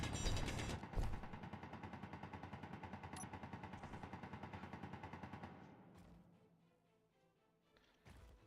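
Rapid enemy gunfire in the Pertam Outpost video game, a long unbroken stream of sharp automatic shots close and loud, thinning out near the end before a final burst.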